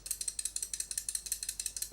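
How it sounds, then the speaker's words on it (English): Rapid, evenly spaced metallic clicks from the loose, rattling jaws of a cheap adjustable wrench, a steady ticking rhythm heard close up and fairly quiet, with no talking. "there's a little bit of rattling from the adjustable jaws"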